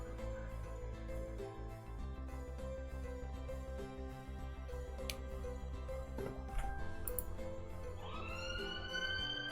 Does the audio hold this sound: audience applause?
no